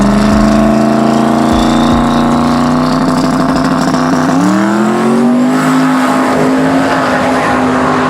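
A loud twin-turbo 1500hp Camaro street car with a 427-cubic-inch LSX engine revs hard and holds a high, rising roar, close by, with a throaty rumble and brief tire noise mixed in.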